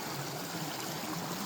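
Flowing stream water beside the Appalachian Trail, a soft steady rush and babble, continuous and fairly faint with no voices.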